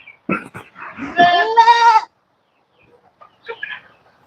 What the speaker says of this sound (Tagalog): Yung si Junmar, sinusunod lagi yung may naglalandi na kambing.